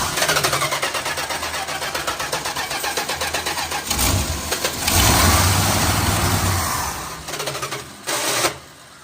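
Starter on a Mopar barn-find car with gummed-up fuel, rapid rhythmic cranking churn for several seconds, then the engine catches into a rough, uneven idle with a few louder revving bursts.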